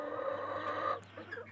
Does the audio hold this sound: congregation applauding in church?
no